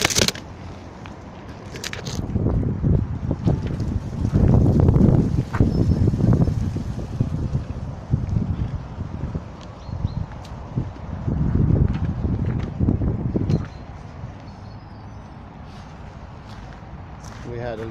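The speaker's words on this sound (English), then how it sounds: "We had a little gust of wind there." Outdoor wind gusts buffet the microphone with low, rumbling bursts that swell and fade twice over several seconds, then settle into a quieter background.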